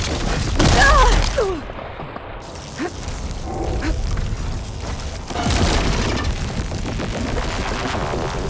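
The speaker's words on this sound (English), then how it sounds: "It's gonna explode any second!" A blast in Horizon Forbidden West, apparently a plasma-charged explosion, gives a loud booming burst at the start, with a second swell of crashing noise and rumble later amid game effects.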